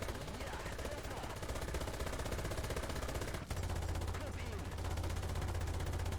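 Machine-gun fire in War Thunder is heard as a dense, continuous crackle of rapid shots over a low engine rumble. It is loud and close, and the pitch of the rumble shifts partway through, with voice chatter beneath.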